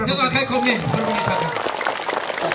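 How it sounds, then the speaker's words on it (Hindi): A congregation at a Christian church service led by an apostle claps and cheers loudly, a dense burst of applause mixed with voices. "ताली बजाएं जोर से।"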